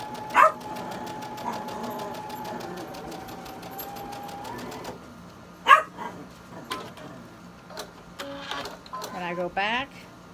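A sewing machine stitches fabric for a beginner quilt block in a steady, close mechanical whir that stops partway through. Soft handling clicks and brief short stitching bursts follow, and a dog barks faintly in the background.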